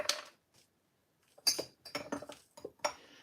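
Yeast nutrients mixed into grape juice mead: a spoon clinks and scrapes against a glass or metal vessel in quick irregular bursts after a short quiet gap, close and fairly faint.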